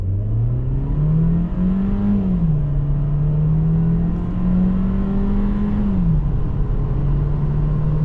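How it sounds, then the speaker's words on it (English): A 2026 Volkswagen Taos accelerates hard from a standstill, engine drone climbing steadily in pitch, dipping briefly at each upshift, then rising again, loud and continuous from inside the cabin. "let's do a quick local 0 to 60 run. So 3, 2, 1, building up the revs,"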